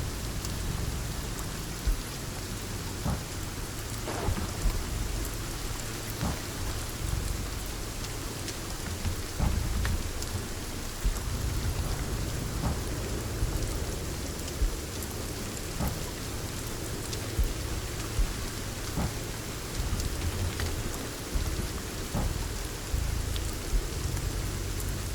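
A steady downpour hisses throughout in the survival video game Sons of the Forest, with low rumbling thunder beneath it and faint scattered drips and taps, continuous and fairly loud with no speech.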